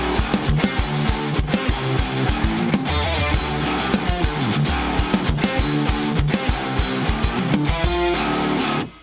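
Programmed drum part for a metal song riff, a steady groove with regular kick and snare hits riding beats two and four, loud and dense, mixed with guitars and ending abruptly.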